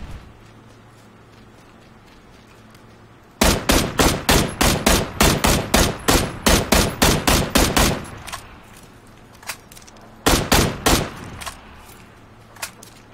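Bursts of video game gunfire crack out in rapid, evenly spaced volleys, a long run of about twenty shots followed by a few scattered single shots and a shorter final burst, loud and close against a quiet background.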